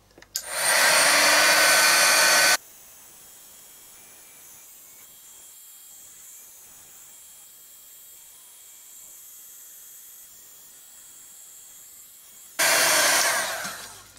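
A heat tool drying acrylic paint on an art journal page blows with a loud steady roar, cuts off to quiet hiss for about ten seconds, then roars again near the microphone.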